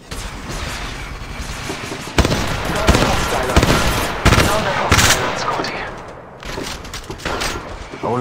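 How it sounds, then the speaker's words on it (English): Gunfire in Apex Legends Mobile, loud, dense bursts of automatic shots and booms close up, with game character voice lines over the shooting. "Battling the enemy. Shooting!"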